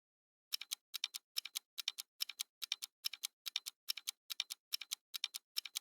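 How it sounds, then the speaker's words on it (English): Typewriter keys clack in quick, even bursts of two or three strikes, repeating steadily and close up with nothing else around them. "a typewriter is used for typing"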